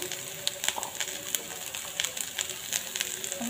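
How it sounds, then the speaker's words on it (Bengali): Turmeric powder and salt fry in hot oil in a pan while making Maggi noodles, giving a steady soft sizzle broken by frequent sharp crackles and pops. "এতিয়া মই অলপ টাইম লৈ হালধি ভাজি লওঁ"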